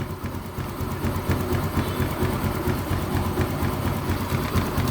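A Yamaha Mio M3 125 motorcycle engine with a sputtering, hard-to-idle fault runs close by in a steady, rough drone with a fluttering, uneven pulse and no clear rise in pitch.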